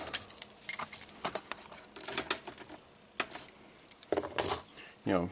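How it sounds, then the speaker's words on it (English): Car keys jangle and clink in the ignition of a Jeep with a battery drain, a close metallic rattle in several bursts, the last one sharper. "if we just turn the key to accessory"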